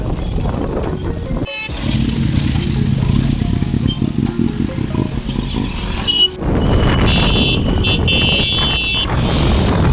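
A motorcycle rides through busy street traffic in Barasat, its engine droning loudly and close amid passing vehicles, with car horns honking and tooting in short bursts.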